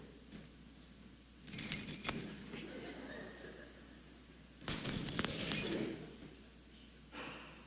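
A bunch of keys jangles in two loud bursts of bright metallic clinking, each lasting about a second, separated by a quieter stretch with low room sounds.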